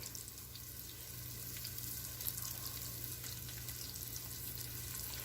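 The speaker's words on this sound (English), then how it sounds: "And now I'm just putting it in the pan, and I'm going to very quickly cook this up." Thin beef strips coated in cornstarch sizzle steadily in a hot pan, a soft, even frying hiss that carries on without pause and with no talking.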